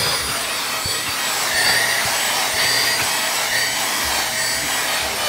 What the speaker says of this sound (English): Vacuuming the stairs.